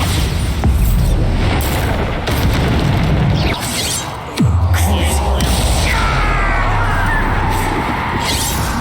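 A Bombarda blasting spell bursts in the Hogwarts Legacy video game, a loud booming explosion with a sharp crack near the middle, ringing out over dense, continuous combat noise and rumble.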